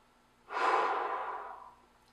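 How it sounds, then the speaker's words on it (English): A trombonist draws one deep, audible breath before playing: a single loud, close inhalation that swells quickly, holds for about a second and fades, with no instrument or talk. "I'm gonna give myself an entire bar to get a good breath"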